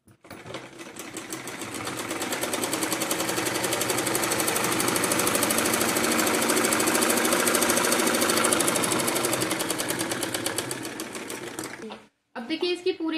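A sewing machine stitches the fitting seam of a blouse, running in a fast, continuous mechanical rattle for about twelve seconds before stopping briefly and starting again, close and loud.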